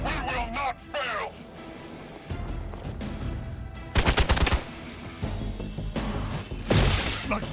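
Gunfire in the video game Marvel's Midnight Suns, with a dense burst of rapid shots in the middle and more firing near the end, mixed with game music and voices talking.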